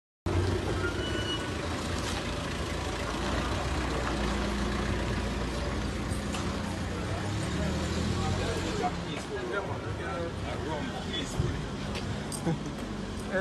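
A bus engine idling outdoors near a funeral home, a low steady rumble mixed with general roadway traffic noise, with people talking over it throughout.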